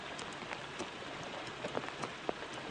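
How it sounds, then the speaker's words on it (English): Heavy rain falls steadily during a flood, with scattered louder drops striking a surface close by and no voices. "And it's raining hard again."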